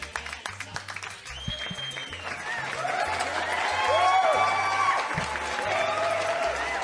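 Studio audience applauding a singer on a television programme, clapping and cheering that builds under whistles and background music.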